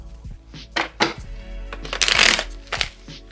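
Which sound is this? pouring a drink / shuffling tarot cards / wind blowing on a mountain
shuffling tarot cards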